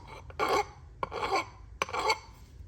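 A metal file rasps three times at a steady pace across a lock part from a gun safe while deburring it, close and fairly quiet, each short grating stroke separated by brief pauses.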